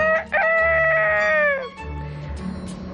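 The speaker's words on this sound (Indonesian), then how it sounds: "mereka berdua berkokok." A rooster crowing once on a farm, a loud, drawn-out call with a rising then falling pitch lasting about a second and a half, followed by quieter background noise.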